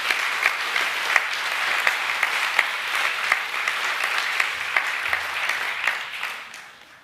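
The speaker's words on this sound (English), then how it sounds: "Please give a round of applause for the Year 10 Academic A winners." A school academic assembly audience applauds the Year 10 Academic A award winners with brisk, steady clapping. A few sharp individual claps stand out before the applause tapers off at the end.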